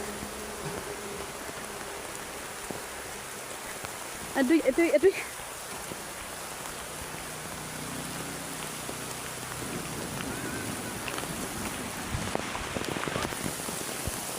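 Rain falls steadily as a soft, faint hiss during a pineapple harvest in the fields, with a brief spoken exclamation and scattered voices over it.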